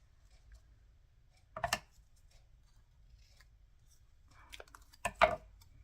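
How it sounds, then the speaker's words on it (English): Scissors snipping through a paper film strip in a quiet room, two short bursts of close, crisp cuts separated by a pause, the second a little louder. "I'll cut that side off."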